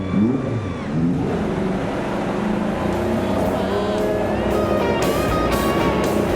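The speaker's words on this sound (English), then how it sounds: "you can hear the engines firing" Several IndyCar race car engines rev and idle together, a dense, buzzing mechanical roar with rising pitches, loud and close, no speech.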